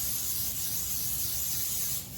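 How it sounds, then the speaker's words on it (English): Flour-based baking spray hisses onto a baking sheet in one continuous, close aerosol burst lasting about two seconds, then tapers off. "I'm going to take my baking sheet and spray it with my favorite thing, the baking spray pan, which is like the flour-based one."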